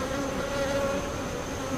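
A honeybee swarm fills a beekeeper's hive, giving a steady, dense buzz that holds evenly throughout at moderate loudness.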